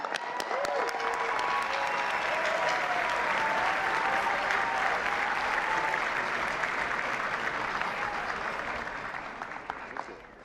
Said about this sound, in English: Thanks for keeping that applause going all the way, too.